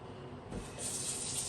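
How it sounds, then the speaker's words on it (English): Running water from a kitchen faucet as hands are washed during meatball preparation: a steady close splash that swells louder partway through as the hands move under the stream, with no talking. "You're just gonna let me wash my hands"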